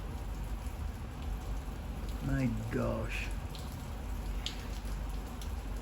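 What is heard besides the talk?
heavy rain falling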